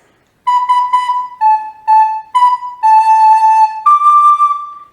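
A recorder plays a Jingle Bells phrase as a series of clear, close, piping notes, short repeated tones followed by a longer held one, with no voice over them.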